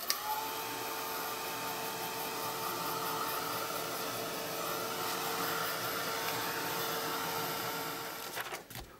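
A dryer blows steadily on a page of a craft journal, a continuous, even whooshing hum that runs for several seconds before cutting off at the end.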